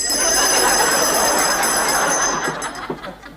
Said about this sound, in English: That was the second bell.